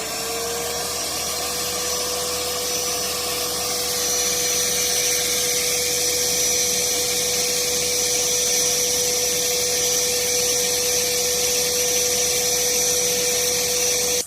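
A pond vacuum runs steadily and loud, drawing in water until its chamber fills and then draining. A constant motor hum with a sustained pitched whine holds throughout, without pause.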